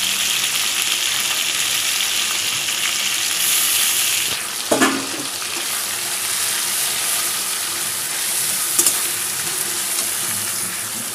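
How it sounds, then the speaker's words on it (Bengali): Ginger, onion, garlic and green chilli fry in hot oil for a Bengali potato, pointed gourd and prawn curry, a loud, steady sizzle running throughout with one brief stirring scrape partway. "এবার রেডি করে রাখা মশলাগুলো দিয়ে দেব, আদা পেঁয়াজ রসুন আর কাঁচা লঙ্কা।"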